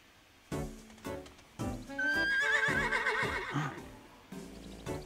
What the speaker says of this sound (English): What's that sound? Let's go check it out. I love all the little faces we put. It's a horse in distress.